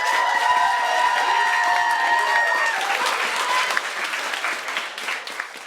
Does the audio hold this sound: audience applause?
yes